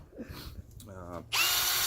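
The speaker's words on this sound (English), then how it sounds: "now I'm gonna try the same thing with the Milwaukee drill set" Milwaukee 12V cordless drill running, a sudden loud steady whir that starts after a brief spoken word and holds close and constant to the end.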